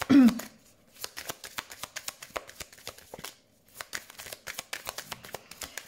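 A deck of cards is shuffled close by before a card-reading draw, with rapid rhythmic riffling in short bursts and a brief pause midway, and a faint vocal sound at the start.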